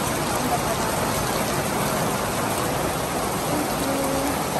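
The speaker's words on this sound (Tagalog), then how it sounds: "ang lakas ng ulan" Heavy rain pours down in a constant, dense hiss, close and unbroken throughout.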